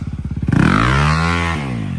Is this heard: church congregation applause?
no